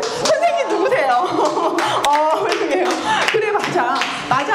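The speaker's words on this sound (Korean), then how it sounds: "감사의 박수를 한번 쳐야 될 것 같아요." A small group claps in thanks during a Bible storytelling session, with scattered, close claps mixed with lively talking and light chuckling throughout.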